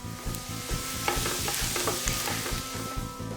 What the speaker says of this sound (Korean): 들기름 4스푼, 다진 마늘 넣고 마늘 양을 내준다.